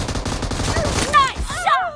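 Rapid gunfire from the mobile battle royale game PUBG Mobile crackles through a dense, busy mix, with a game announcer's voice and whistling tones over the shots.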